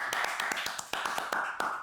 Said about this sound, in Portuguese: Palmas pra Lipe, meu irmão.